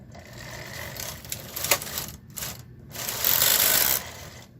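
A Knitking KH 965i knitting machine carriage sliding across the needle bed, with rattling, whooshing passes broken by brief silent gaps, near and moderately loud.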